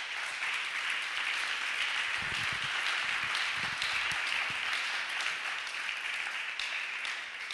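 Church congregation applauding at the close of a sermon: a continuous, fairly distant wash of clapping that holds evenly throughout, with a few louder thumps partway through.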